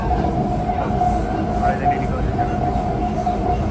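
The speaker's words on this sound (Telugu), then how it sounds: "సో ఇప్పుడైతే మన ట్రైన్ వచ్చేసి చిత్తూరుకి అయితే వచ్చేసింది" A passenger train on the Tiruvannamalai to Tirupati line rolls into Chittoor with a steady, loud rumble of wheels and carriage, a continuous drone with faint rattles and no distinct voices.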